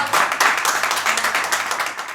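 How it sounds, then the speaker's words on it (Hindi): Open mic poetry audience applauding to welcome a poet to the stage, a dense, fairly loud burst of clapping with a slightly pulsing rhythm that holds for about two seconds and fades slightly toward the end. "एक बार जोरदार तालियों से इस्तकबाल करें आकाश सक्सेना भाई का।"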